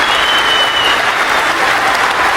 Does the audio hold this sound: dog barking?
no